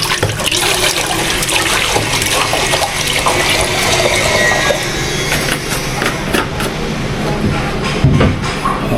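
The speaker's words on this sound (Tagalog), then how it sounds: "Nagpapaboy lang ako ng konting tubig. Para sa ating pasta." Water pours steadily into a pot for cooking pasta, a continuous loud splashing rush that lasts throughout with slight shifts in flow.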